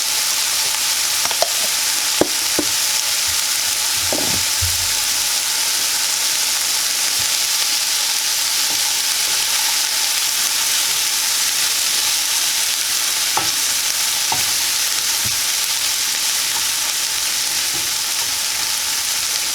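Butter sizzles and fries steadily in a pan for an omelet with seasoned eggs and vegetables, a constant bright hiss broken by a few soft clinks and stirring scrapes.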